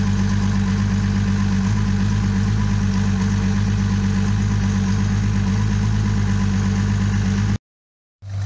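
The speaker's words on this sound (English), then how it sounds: "Got both motors running." Two boat outboard motors, freshly repowered on a 1989 Hydrasports Vector 2500 center console, idling together in a steady, loud low rumble with constant vibration, cutting to silence near the end.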